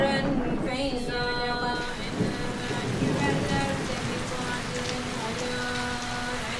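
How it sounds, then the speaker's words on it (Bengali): Rain falls at night in a steady, dense patter on surfaces, with a faint tonal hum and brief background voices mixed under the downpour. "সেই রাতের মতোই বৃষ্টি হচ্ছে।"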